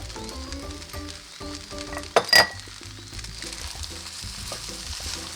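Frozen peas and scallion hit a hot wok for Chinese-style fried rice, bringing a soft sizzle under background music, with a brief metallic clink of a utensil midway.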